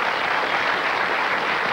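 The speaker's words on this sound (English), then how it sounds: "please, a round of applause for Alan Finney and Nick Giannopoulos." Sustained broadband audience applause at a TV show, steady and dense for the whole stretch with no voices on top.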